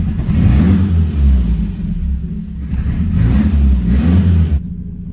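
A 1981 Dodge Challenger engine drones and surges while driving, loud and close, with repeated swells of revving and a sudden cut near the end.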